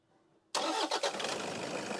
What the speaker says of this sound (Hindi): एक बार अपन गाड़ी चालू करके देखते हैं ये अपना प्रॉब्लम क्लियर हो रहा है क्या।